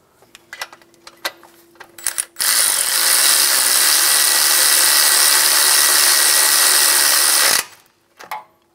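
A 14 mm bolt on a bracket is snugged down on a 2000–2006 Toyota Tundra 4.7L V8 during timing belt and water pump work: a few quick ratchet clicks, then a loud, steady mechanical rush lasting about five seconds, then more clicks.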